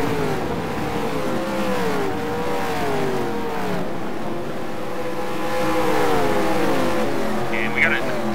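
Race cars taking sweeping corners at about 150 to 160 mph, with engines droning and shifting pitch as several cars pass in close succession, under a commentator's voice.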